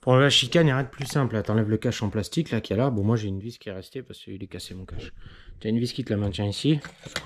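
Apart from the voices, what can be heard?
None of the usual background noises is heard.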